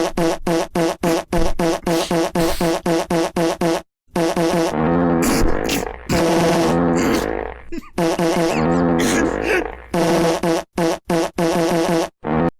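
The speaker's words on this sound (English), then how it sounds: "Polyester Spider-Man, but the sound is replaced with fart noises." A Polyester Spider-Man edit with its music swapped for fart noises: loud, rapid bursts of rhythmic farting follow the beat, broken by short silences and longer stretched, wavering farts.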